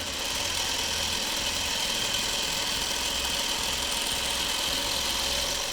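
Domestic sewing machine stitching a patchwork quilt block for a courthouse steps pattern, a steady continuous motor hum and rapid needle chatter running evenly throughout with no talk.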